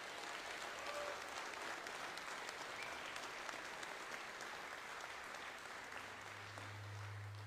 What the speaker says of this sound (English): if you'd give him another round of applause